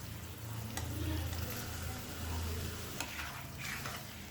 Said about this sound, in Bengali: এবার এর মধ্যে দিয়ে দেব পনির।